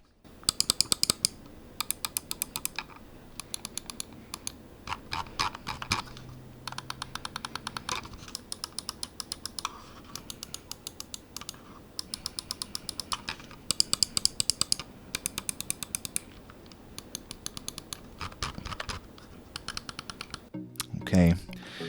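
A G-Wolves Hati mouse with gold switches clicks in rapid, close bursts of crisp, tactile taps. Clusters of clicks repeat throughout with short pauses between them, and speech is faint in the background.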